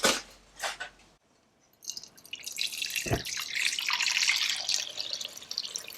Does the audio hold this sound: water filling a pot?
yes